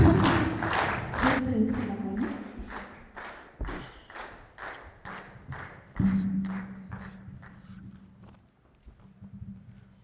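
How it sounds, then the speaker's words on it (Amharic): An audience claps together in rhythmic applause at a cancer-prevention foundation event, with steady, fairly loud, evenly spaced claps that thin out toward the end, over a low background hum. "እናንተ በዲሞካችሁ አጨብጭቡ"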